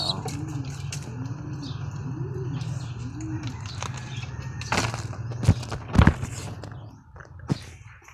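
Racing pigeons coo in a repeating series of soft, rounded calls, close by, with scattered chirps, a few sharp knocks and brief voices toward the end.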